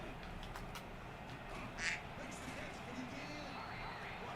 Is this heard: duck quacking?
yes